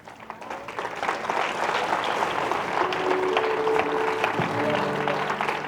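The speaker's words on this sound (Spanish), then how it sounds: "Denle un aplauso al Señor." A church congregation claps and cheers together during a Spanish-language service, a dense, lively wash of applause with voices and a held musical tone threading underneath.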